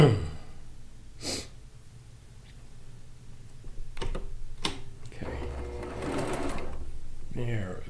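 A freshly threaded sewing machine stitches a Lacey Log Cabin quilt top in short bursts, then runs a longer steady stretch near the end, with a voice speaking quietly between runs.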